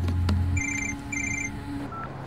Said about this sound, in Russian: И вот звонок, изменивший все.